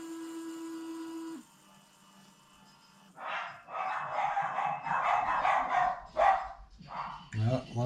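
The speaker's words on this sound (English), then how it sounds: "Got the dogs barking." Several dogs bark in a loud, ragged burst after an electronic beep and a quiet pause, with shooting gear being used nearby during rifle load development.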